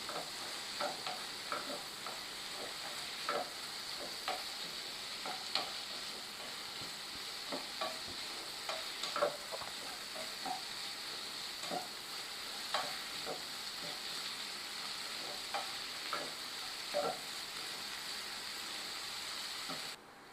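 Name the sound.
sautéing tomatoes in a pan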